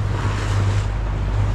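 Gusty wind buffets the microphone over the steady wash of surf on a rocky shore at low tide, a continuous loud rumble with no voices.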